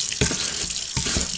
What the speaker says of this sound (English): Put it in the running water